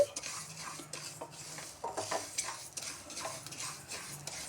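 Mustard seeds and another spice dry-roasted for Indian gooseberry pickle, stirred in a pan on low heat: steady scraping and rattling of a spoon against metal with quiet sizzling underneath, no talk.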